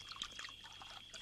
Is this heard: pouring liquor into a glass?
yes